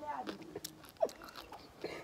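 Someone bites and chews crunchy food at a waterside spot in Ogun State, Nigeria. The crunches are soft, close and irregular, and quiet talk sits between them.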